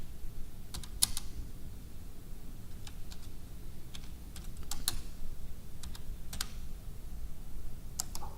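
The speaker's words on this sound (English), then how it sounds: "Maybe you could type the question to me and I can answer that way" Someone typing a question on a computer keyboard, irregular bursts of close, crisp key clicks with short pauses between, over a faint room hum and no talking.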